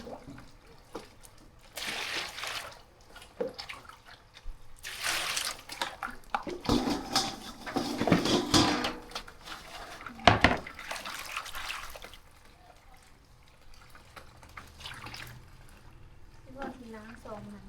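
Vegetables being washed by hand in a basin of water outdoors in rural Laos, with intermittent splashing and sloshing bursts, moderately close, interspersed with quieter pauses and a little background sound.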